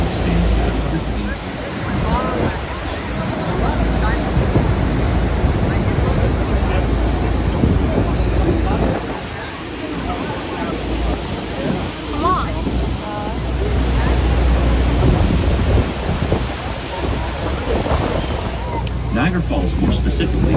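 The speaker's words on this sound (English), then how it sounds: "Niagara Falls, more specifically, is the name of three waterfalls: the American, the Bridal Veil, and the Horseshoe Falls." Niagara Falls waterfalls, the American, Bridal Veil and Horseshoe Falls, send a steady, loud roar of rushing water with wind noise across the whole stretch, and a voice talks faintly over it.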